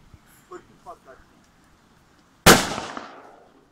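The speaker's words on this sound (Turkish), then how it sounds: "Ev yapımı güzel bir patlama." A homemade firecracker made with hydrochloric acid goes off in a single sharp, loud bang with a short decaying tail. It follows a few seconds of faint talking.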